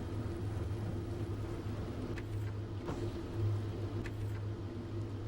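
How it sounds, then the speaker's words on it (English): Steam engine running in the Factorio video game with the Krastorio 2 mod, a faint, steady low mechanical hum with a few soft clicks scattered over it. "Sounds like a steam engine."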